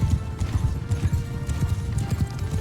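Horse hooves clip-clopping at a steady trot in Mount & Blade 2: Bannerlord, a rapid rhythmic run of close, loud thuds lasting a couple of seconds with no talking.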